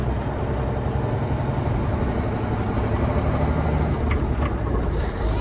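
A steady low rumble comes from an old White GMC truck engine as it is shifted into third gear, loud and continuous, with no clear change in rhythm during the shift.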